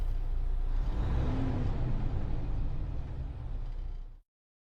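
A Howo truck with a 10-speed gearbox, its engine revved in neutral for a downshift: a deep, rumbling rev that holds for a few seconds, then fades out abruptly, with no voices.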